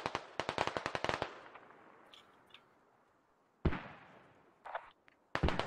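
Bursts of automatic gunfire in the military shooter game Squad: a rapid string of cracking shots, then scattered single reports and a second short burst after a lull, moderately loud with no talking.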